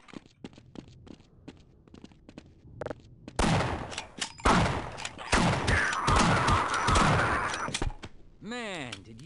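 Shotgun blasts in the video game Half-Life, with a burst of loud, rapid shots and impacts after a quieter stretch of footsteps and clicks, ending with a warbling game effect; someone talks over parts of it.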